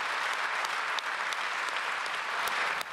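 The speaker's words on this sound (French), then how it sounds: "Le discours du responsable ukrainien s'est terminé sous un tonnerre d'applaudissements." Applause in Belgium as a Ukrainian official's speech ends, a continuous wash of many hands clapping, even and fairly distant, lasting the whole stretch.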